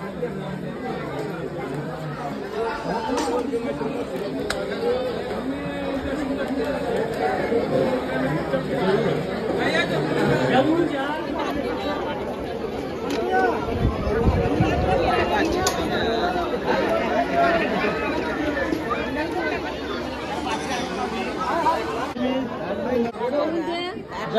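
Dense crowd chatter at a Hanuman Jayanti palkhi procession in Bamandongri, a steady babble of many voices close by and continuous throughout, with no single voice standing out.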